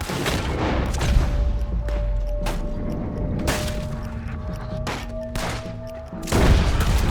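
Rapid gunfire crackles through a Red Dead Redemption 2 shootout, sharp close shots layered over continuous noisy battle din, with a loud burst near the end and no voices.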